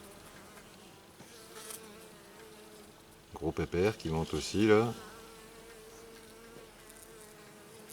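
Honeybees buzz steadily around a small nucleus hive fitted with an escape flap, and one passes close with a louder, wavering drone while someone speaks softly.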